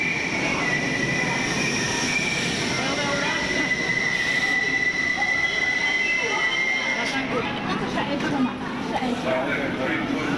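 A New York subway train in 2001 rumbles steadily with a high metallic whine and wheel squeal, while people talk over the noise.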